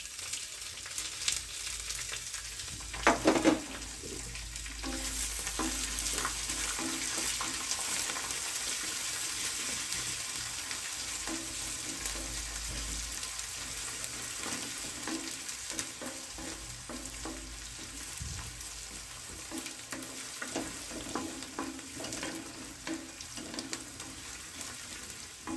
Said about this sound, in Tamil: அதையும் நம்ம சேர்த்து நல்லா வதக்கி விட்டுக்கலாம்.